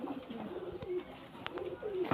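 Pigeons coo softly nearby in a series of short, low, throaty calls, with a few brief rustles between them.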